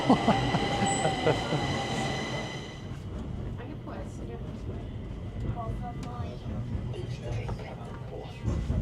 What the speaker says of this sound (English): Here is the Swedish metro, the underground metro.